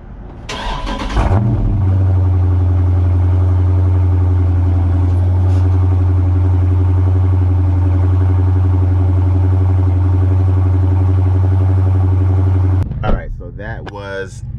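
A Dodge Charger Daytona 392 V8 with a modified exhaust cranks and fires up loudly, then settles into a deep, steady, rumbling idle close by, with a voice speaking briefly as it ends.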